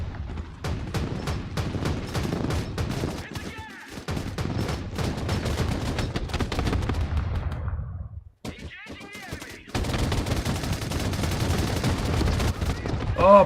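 Gunfire on an armored transport in the war game Broken Arrow, with rapid bursts and repeated shots rattling almost without pause, one brief lull in the middle, and faint voices under the battle.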